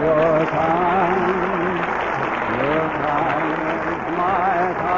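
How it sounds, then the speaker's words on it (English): Applause rises from a theater audience in an old Abbott and Costello comedy, a steady wash of clapping heard under overlapping voices that talk throughout. "What are you applauding for?"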